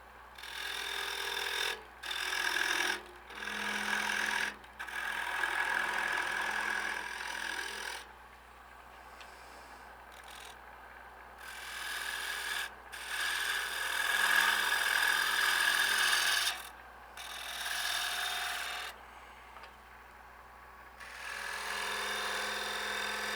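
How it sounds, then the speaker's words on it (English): A gouge cuts a wooden bowl turning on a lathe in repeated rough, scraping bursts several seconds long, separated by short pauses over a steady low motor hum, with no talking. "we'll come in with the gouge again, we'll cut a little bit more"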